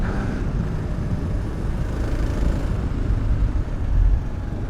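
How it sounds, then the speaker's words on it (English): Kawasaki KLR650 motorcycle climbing a sand hill with its back tire spinning, a loud steady engine roar mixed with rushing wind and churning noise that swells toward the end. "Back tire's just blasting all the way up this hill"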